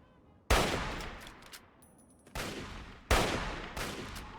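Gunfire in Fallout 3, three loud separate blasts, each a sharp crack followed by a long decaying echo, with quiet gaps between them.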